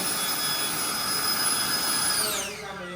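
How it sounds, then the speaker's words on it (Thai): A 3D-printed cordless hair dryer that blows unheated air runs with a steady high-pitched motor whine and airy rush close by, then winds down in pitch during the last half second. "เป็นไดร์เป่าผมไร้สายครับป้าเช็คความแรงนะครับ"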